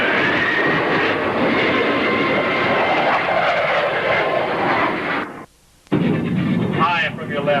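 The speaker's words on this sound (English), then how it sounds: "the Thunderbirds are now approaching for one of their most popular maneuvers, the bomb burst" USAF Thunderbirds jets approaching at a 1986 air show in Waco, Texas, a loud continuous roar of jet engines that cuts out briefly near the end before resuming.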